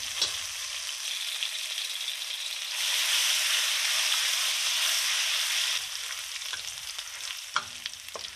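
Fried rice frying in a hot pan, a steady bright sizzle lasting several seconds, swelling louder midway, with a few light clinks and stirring scrapes toward the end.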